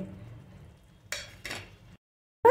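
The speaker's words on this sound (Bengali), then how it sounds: "ভালো করে মিক্স করব।" Spoon stirring and scraping masala for paneer masala curry in a pan, with two short bursts of scraping and a sharper clink of metal at the end, over a quiet low sizzle.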